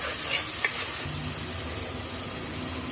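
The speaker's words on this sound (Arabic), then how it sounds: "افضل اشوح في البصلايه شويه لعند ما تدبل معايا" Chopped onion sizzles steadily as it is sautéed in a pan, a continuous bright hiss with faint crackles, close and fairly loud with no talking over it.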